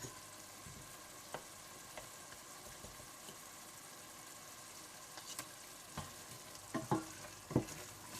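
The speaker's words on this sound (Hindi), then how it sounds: "टमाटरों के छिलके उतारने के बाद आप इन्हें अच्छी तरह से भून लें, यहाँ तक कि ये पेस्ट की शक्ल में आ जाए।" Peeled tomatoes fry and sizzle in a pan, cooking down toward a paste, with a soft steady sizzle and occasional clicks and scrapes from stirring. A few sharper taps come near the end, and no one talks.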